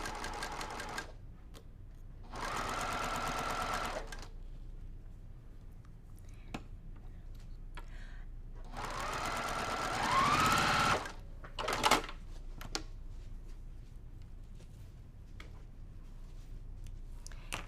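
A sewing machine stitches quilt pieces for a Flag Day quilt in two steady bursts of whirring, separated by quiet handling noises and brief clicks, with no talking.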